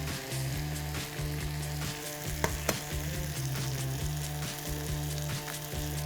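Eggs fry in a skillet of hash potatoes, a steady close sizzle with faint crackles and a couple of small clicks, with no talking.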